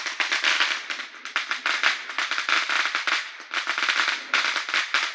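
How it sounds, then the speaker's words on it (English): Fireworks or firecrackers set off outside, a dense run of sharp crackling pops one after another with brief pauses, loud and steady throughout. "You can hear my brother shooting fireworks."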